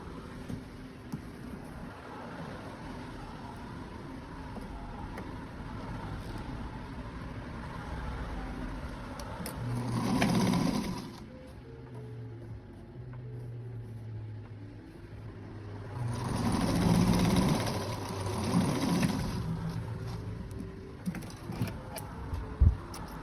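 A sewing machine topstitches a closed seam across the opening of a denim lining, running in two short bursts of motor whir with a low room hum between them.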